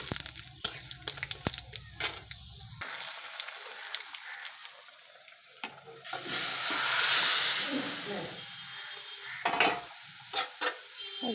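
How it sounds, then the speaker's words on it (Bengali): Moong dal tipped into hot oil tempered with cardamom, dried red chilli and panch phoron, a sudden loud hissing sizzle that swells and then fades, after clinking and stirring noises. "এবার দিয়ে দেবো ডাল।"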